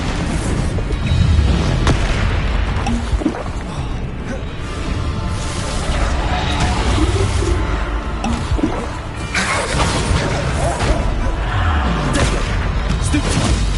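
Bombarda explosion spells cast in the video game Hogwarts Legacy, deep booming blasts and bursts repeating amid dense, loud combat noise and music, with a voice calling out spell names throughout.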